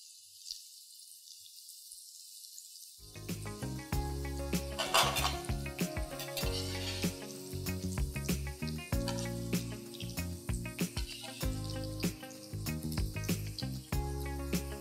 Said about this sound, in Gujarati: હવે આપણે ભાખરવડી તળી લઈશું.